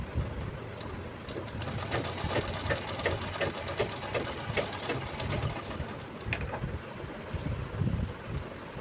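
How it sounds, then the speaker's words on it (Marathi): Sewing machine stitching a V-shaped seam with a half-inch margin on a girl's anarkali frock, a steady fast mechanical whir and needle chatter running continuously at close range without pause. "थोडा 1/2 इंच मार्जिन सोडून आपल्याला इथे स्टिचिंग करून घ्यायची आहे."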